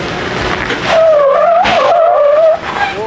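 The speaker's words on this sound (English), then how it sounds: "Slow throttle, Jay." An off-road Toyota or Jeep at Hollister Hills SVRA works its engine hard, giving a loud, close revving whine that rises and wavers for about two seconds before dropping off.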